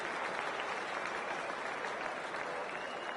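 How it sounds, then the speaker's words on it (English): A stadium crowd at a cricket video game match between India and West Indies in the World Cup applauds continuously, a dense, steady roar of clapping filling the whole stretch without pause. "We're about to get underway and already the crowd is up and about."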